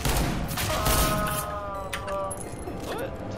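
Volleys of video game gunfire from a Counter-Strike: Global Offensive horror map crackle loud and close at first, then thin to scattered shots under a brief tonal game sound.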